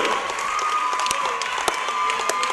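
A gym crowd applauds at a girls' high school basketball game, a dense, steady patter of many hands clapping with a few sharper individual claps standing out.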